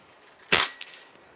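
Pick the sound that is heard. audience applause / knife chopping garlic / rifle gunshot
rifle gunshot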